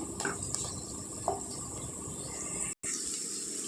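Garlic frying in a pan during preparation of a cluster bean (goruchikkudu) fry, with a steady soft sizzle and a few light clinks of a utensil against the pan.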